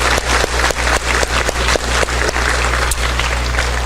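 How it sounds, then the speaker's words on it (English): Audience at a school district resiliency awards ceremony claps steadily, with distinct sharp individual claps punctuating a continuous wash of applause and a low hum underneath. "So give a big round of applause for yourself."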